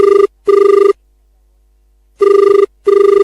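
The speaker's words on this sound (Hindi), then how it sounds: "फोन की घंटी बजन लगी है" A telephone rings in a radio studio with a loud electronic double-pulse tone: two quick bursts, a pause, then two more, close and clear.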